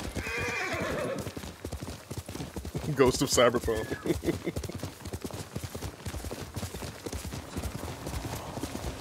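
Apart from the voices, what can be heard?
horse hooves galloping in a video game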